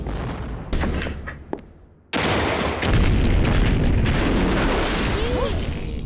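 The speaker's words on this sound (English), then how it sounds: "My favorite CD! Military Explosion! All-time greatest hits and misses!" Military explosion sound effects play from a CD in a cartoon, a dense run of booms, blasts and gunfire-like bursts filling the space after a brief quiet gap, loud and continuous with some faint vocal sounds underneath.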